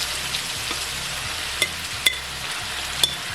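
Ackee added to a frying pan with chicken, a steady low sizzle with a few sharp clinks of a utensil against the pan, close and continuous, no talking.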